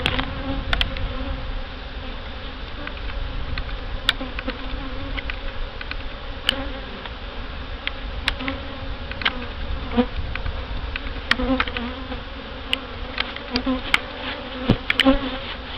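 Honey bees buzzing around an open hive during a mid-July health inspection, a steady close drone with occasional sharp clicks and taps.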